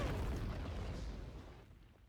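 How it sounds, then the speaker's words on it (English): A broad, roaring magic explosion spell blast in Blade and Sorcery, loud at first and then fading away over a couple of seconds. "All that stored power should result in an explosion."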